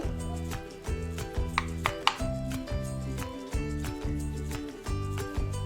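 A knife chops okra steadily on a board, brisk repeated strikes in a regular rhythm, close and clear.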